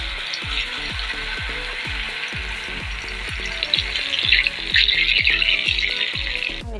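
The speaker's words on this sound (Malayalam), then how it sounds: "എല്ലാം വറുത്തെടുത്തിട്ടുണ്ട്." Padda snacks deep-fry in hot oil with a bright, continuous sizzle that swells louder midway. A steady, evenly spaced low thumping beat runs underneath, and no one speaks.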